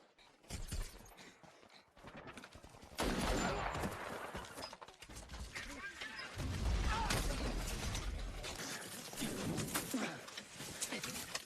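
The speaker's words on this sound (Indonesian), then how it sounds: "Mereka kembali beradu tembakan." Gunshots crack in bursts during a film shootout over a dense, loud action soundtrack, with shouting voices and music layered throughout.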